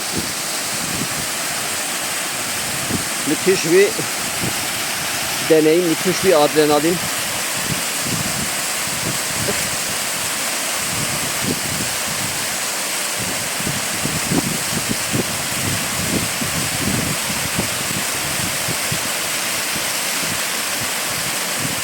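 The Gürgüre waterfall in Yukarı Civanlı village, a drop of about 40 metres, roars as a steady loud wash of rushing water, with someone speaking briefly over the constant noise.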